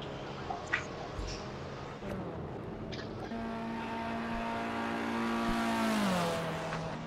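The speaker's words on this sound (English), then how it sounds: "Just watch the car coming past you." A car in a racing video game engine note rising steadily and holding a sustained harmonic drone, sweeping slightly downward near the end as it passes close by, loud over a steady background hum.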